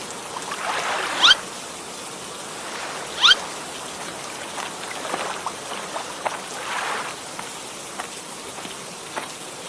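Steady rain falls on water by a boat landing in a Bengali cartoon, a soft continuous hiss broken by a couple of sharper splashes near the start, with no voices.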